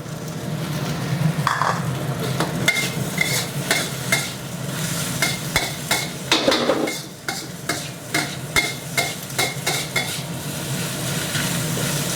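Cooked jasmine rice with fermented pork is stir-fried in a hot wok, with a steady sizzle broken by repeated sharp scrapes and knocks of the spatula against the pan, fairly close and with no talking.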